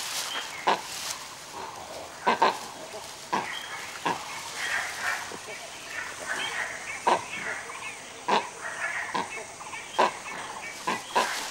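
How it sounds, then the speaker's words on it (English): Langur monkeys give sharp, harsh calls repeatedly in bursts, shrieks and bark-like cries spaced irregularly over a steady outdoor background of insects and birds in Manas Tiger Reserve. "the langurs, who make an unearthly din, shrieking and barking whenever they spot anything suspicious"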